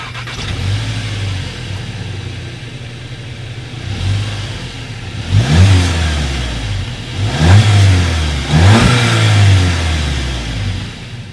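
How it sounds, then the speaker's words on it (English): A 2019 Volkswagen Jetta GLI's dual exhaust with chrome tips idles with a low steady rumble, then revs sharply three times in quick succession, each loud rise falling back to idle, heard close up with no talk. "So as always, you guys, here is that exhaust clip."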